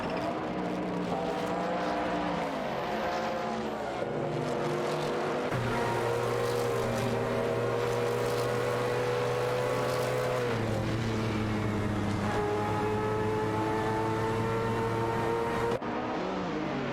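Race car engines scream in an AI-driven racing video game featuring an Aston Martin AMR1 and a Mazda 787B, steady high-revving tones shifting pitch with gear changes as several cars run close together, continuous and loud.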